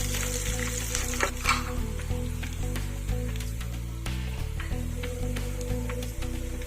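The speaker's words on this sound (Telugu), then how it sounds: "వెల్లుల్లి రెబ్బలు మంచి కలర్ వచ్చేంత వరకు వేసుకోవాలండి" Garlic cloves fry in oil for a potato dry fry, a continuous close sizzle with occasional crackles, heard over steady background music with no talking.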